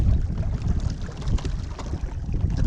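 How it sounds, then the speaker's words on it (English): Steady wind gusts buffet the microphone at a lake, a continuous rough rumbling roar with no speech, fairly loud throughout. "It's a little breezy today, not what I was expecting"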